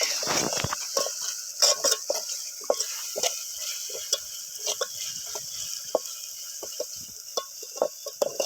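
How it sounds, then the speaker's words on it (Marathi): Onions roasting in a pan for a village-style goat mutton curry, cooked outdoors on a hill: a soft background sizzle broken by repeated scraping and clinking of a spoon against the pan, close and irregular. "जरा कांदा जरा भाजून निघला पाहिजे."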